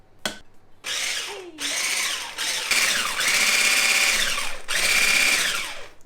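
An electric hand mixer beats four cracked eggs in a mixing bowl for keto blueberry muffins, giving a steady, loud whirring motor whine in several long bursts with short pauses between them.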